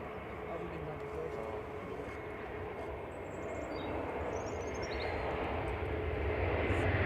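Vueling Airbus A321-200 rolling out after landing at Manchester Airport, a broad engine rumble that slowly grows louder, with a voice talking over it.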